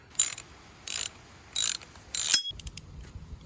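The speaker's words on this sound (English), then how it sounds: "once you've undone that right here with your Allen key, it slides right off" Four short, bright bursts of ratcheting mechanical clicking come from a tool loosening the pedal crank on a vintage mountain bike, followed by softer scattered clinks.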